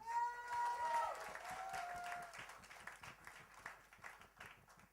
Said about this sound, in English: I think this guy deserves another round of applause, please